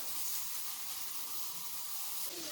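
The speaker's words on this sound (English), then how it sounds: "I've got my pan nice and hot. I'm just going to pop about a tablespoon of butter in there." Butter sizzling in a hot pan before zucchini noodles are sautéed, a steady, close hiss that holds evenly throughout with no talk.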